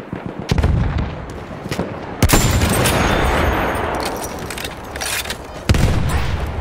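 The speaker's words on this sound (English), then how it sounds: "Machine gun, one of theirs." Machine gun fire in the Battlefield 1 video game, loud, close bursts of gunfire mixed with heavy booms and a continuous roar of battle noise.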